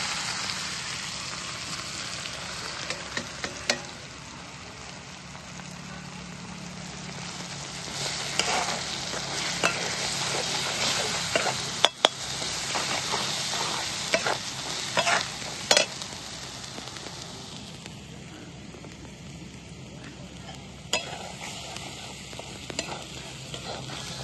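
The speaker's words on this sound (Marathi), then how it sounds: "मी टमाटर चांगलं तळून घेतलं" Tomato and spice masala fries in a pan with a steady, close sizzle, broken by occasional stirring scrapes and small pops, with no voices over it.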